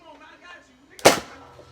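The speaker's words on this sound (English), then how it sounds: "I'm gonna try to shoot through this bag." A paintball gun fires a single sharp pop at an empty Doritos bag outdoors at a grandmother's house, loud and close after a quiet moment.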